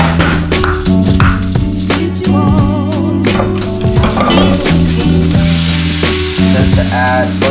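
Diced garlic sizzles and crackles steadily in a hot oiled pan, loud and close, with scattered clinks of stirring and no voices.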